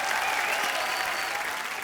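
A studio audience on a comedy show claps in a brief, steady burst of applause, even and sustained across the moment without individual claps standing out.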